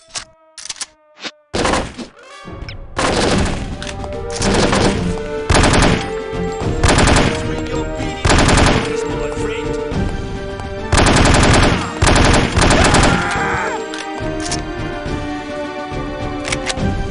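Rapid automatic gunfire from the PC shooter game No One Lives Forever, loud and close, in long sustained bursts broken by short pauses, with a few isolated shots at the start.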